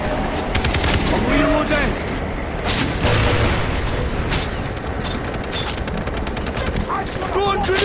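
PKM machine gun fire in Far Cry 3, loud and close, with sustained bursts and rapid shots and booms throughout while a voice talks over the gunfire.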